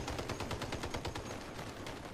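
Vehicle-mounted guns firing at bots in the game Crossout, a rapid, even stream of automatic shots in quick succession, loud and dense throughout the short burst.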